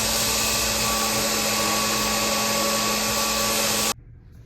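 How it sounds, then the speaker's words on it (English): Grinding a freshly forged steel hammerhead at a forging competition, a loud continuous broadband grinder roar that holds steady for about four seconds, then stops abruptly, leaving only faint background. "We have finished the forging of the hammer, and now it's on to grinding."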